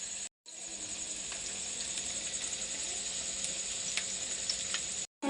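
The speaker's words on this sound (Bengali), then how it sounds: "পেঁয়াজিটা লাল লাল করে ভাজা হয়ে গেছে" Steady sizzling of onion fritters frying in hot oil, a continuous crackling hiss with small pops, briefly cut by short silences at the start and end.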